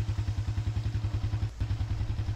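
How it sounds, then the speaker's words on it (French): A motorcycle engine left running idles in a horror video game, a steady, rapid thumping putter up close with a brief dropout midway, no talk. "le moteur a été laissé en marche"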